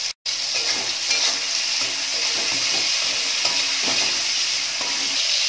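Chopped tomatoes with salt frying in a pan, a steady close sizzle running throughout with soft scraping stirs breaking through, a brief cut near the start.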